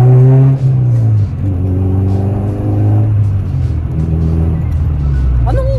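A Honda Civic fitted with a Kakimoto Red Badge exhaust, tri-way headers and a resonator revs loudly up close with a deep rumbling drone and rising and falling engine pitch. Voices are audible briefly near the end.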